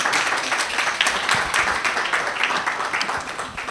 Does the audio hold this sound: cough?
no